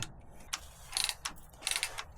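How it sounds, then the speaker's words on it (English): A ratchet removes a bolt holding the brake line on an F150 Tremor pickup, giving short bursts of quick clicking separated by pauses, close-up with no speech. "I take off this bolt right here."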